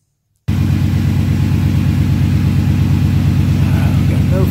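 A 2003 Ford F150 with a 5.4L engine fires up after brief silence and settles into a loud, steady, close running rumble that holds to the end.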